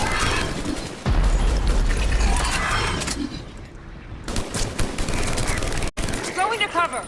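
Dense gunfire during a firefight in Mass Effect 3 on Thessia, loud sustained bursts and impacts crowding the mix, with combat voices calling out over the shooting.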